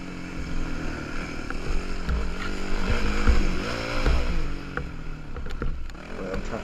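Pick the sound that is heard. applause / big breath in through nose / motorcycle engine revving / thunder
motorcycle engine revving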